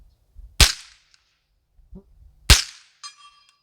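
Two sharp, loud gunshots from an AR-15 rifle fitted with a CMMG .22 LR conversion kit, fired about two seconds apart outdoors at a range, each with a short echo and faint ring.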